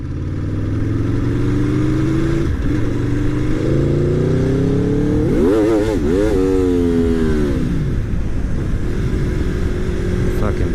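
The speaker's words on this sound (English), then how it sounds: "Because I revved at her, she gives me the finger" A motorcycle engine revs loudly up and down through sweeping pitch rises and falls, close and continuous over the whole span, with a steady idle rumble between the revs.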